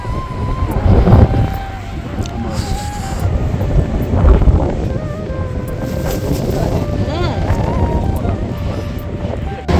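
Strong wind buffets the microphone at a beach while forceful waves roar in a constant, loud rush, with a person talking over it.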